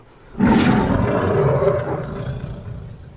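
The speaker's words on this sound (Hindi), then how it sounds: "उन्होंने शेर की दहाड़ सुनी" A lion roars loud and close, one long rumbling roar that swells quickly and slowly fades away.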